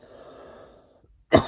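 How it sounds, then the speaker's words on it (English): A single sharp cough bursts out near the end after a faint low hum and near silence. "my coughing for me is just horrendous, literally"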